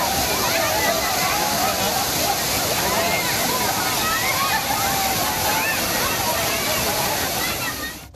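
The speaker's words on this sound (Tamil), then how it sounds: "தற்போது அருவியில் நீர் ஆர்ப்பரித்து கொட்டி வருகிறது" Kumbakkarai waterfall pours heavily after recent rains, a loud, steady roar of falling and splashing water that fills the whole scene and barely changes before fading at the end.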